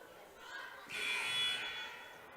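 A scoreboard buzzer at a high school boys basketball game sounds once, a sustained electronic tone of about a second rising over crowd noise in the gym.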